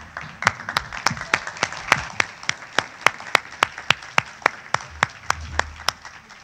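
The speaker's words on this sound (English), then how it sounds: "Let's a round of applause for our panel." Scattered clapping at a workforce forum honoring a panel, a small audience producing distinct, evenly spaced claps close by that carry on steadily and start to thin at the end.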